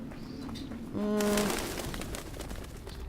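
A crow caws once in the video game The Witcher 2, a short harsh call layered over a steady low ambient game background.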